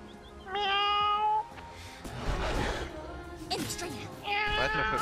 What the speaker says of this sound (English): The kitten sound?